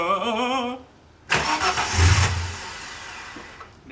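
A Ford AU Falcon six-cylinder engine cranks and catches after a brief tonal whine and pause, roaring loudly for about a second near the listener before dropping back toward quiet, with no voices.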